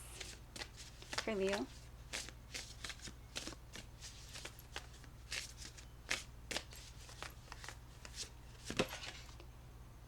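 Spirit animal oracle cards are shuffled by hand in soft, repeated riffling bursts, close and quiet, while someone speaks briefly under a steady low hum.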